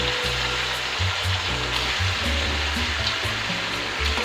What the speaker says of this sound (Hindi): और चिकन को हम पकाएंगे कलर चेंज होने तक